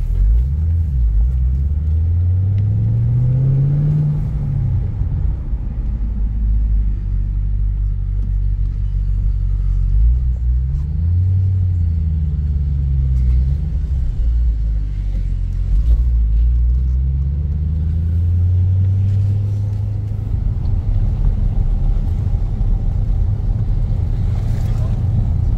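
A 2010 Chevrolet Camaro 2SS V8 roars under acceleration, its engine note climbing through the revs before dropping at each gear change. One shift comes early, with a loud steady drone from inside the car throughout.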